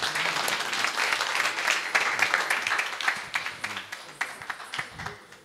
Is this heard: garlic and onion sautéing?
no